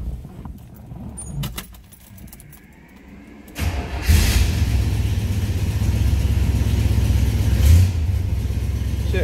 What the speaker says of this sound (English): Let's go ahead and fire this up so you can hear that 350 run.